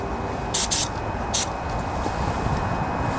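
Starting fluid sprayed from an aerosol can into the intake port of a vintage Briggs & Stratton riding lawnmower engine, three short hissing bursts over a steady background rumble.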